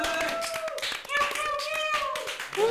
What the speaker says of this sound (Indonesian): Kita beri aplaus semuanya.